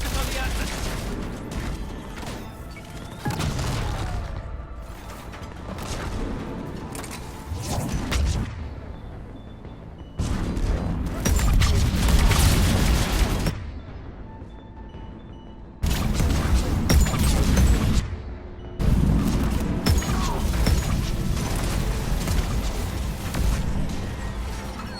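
Heavy cannon fire and booming blasts in the Mass Effect Legendary Edition sci-fi game come in loud repeated bursts separated by brief quiet gaps, with voices speaking at times.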